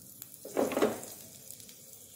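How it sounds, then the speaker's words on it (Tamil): Dry red chili dropped into hot oil in a kadai gives a brief burst of sizzling, loudest for about half a second, then settles to a faint crackle, with no talking. "இப்போ வந்து வரமிளகாய் ஒன்று கிள்ளி போட்டுக்கலாம்."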